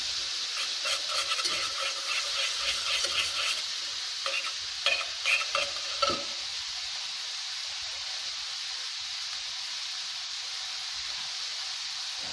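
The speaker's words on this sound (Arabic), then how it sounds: "غادي تدوب لينا هاد 40 غرام ديال الزبدة" About 40 grams of butter melts in a pan with a steady, close sizzling hiss, and a few utensil scrapes and stirs fade out after about six seconds.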